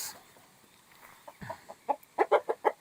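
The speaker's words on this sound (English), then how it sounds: "There's the chickens," Chickens cluck nearby in a quick series of short, sharp calls that grow louder toward the end, with quieter background noise and no talking.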